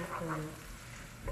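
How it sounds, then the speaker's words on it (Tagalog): Onions sizzling softly in a frying pan as they are stirred, a quiet, brief crackle with faint scraping from the stirring. "ihalo mo lang ng ihalo ang iyong sibuyas hanggang sa siya'y maluto"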